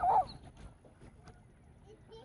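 Ducks on a flood-irrigated farm field give one loud, close quack or honk at the start, then only faint, scattered outdoor noise remains.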